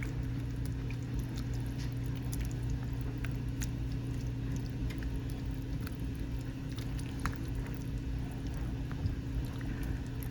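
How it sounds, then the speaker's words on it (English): A simmering pot of sauce with mustard and ketchup being stirred, a soft, continuous bubbling patter with faint wet clicks close by over a low steady hum, no talking. "Let's give that a stir."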